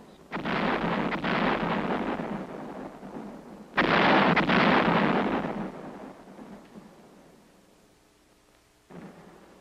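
Artillery barrage pounding enemy hill positions in the Korean War, heard as two long, loud rolling booms with rumbling decay, the second starting near four seconds and fading slowly, followed by a faint later thump.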